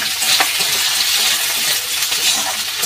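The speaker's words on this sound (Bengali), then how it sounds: "লঙ্কা পেঁয়াজ লঙ্কাটা ভালো করে ভেজে নেব" Onions and green chillies fry in oil for a mutton curry, a steady broadband sizzle with a brief stirring clink early on, continuous and close with no talk.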